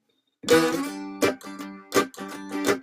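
Guitar strummed for a song, with rhythmic chord strokes in bursts separated by brief pauses, close and fairly loud with ringing sustained tones.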